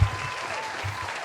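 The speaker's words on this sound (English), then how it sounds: "Can we get a clap for Chef Zane?" A studio audience claps for a chef in a brief, fairly soft burst of applause that starts at once and carries on evenly.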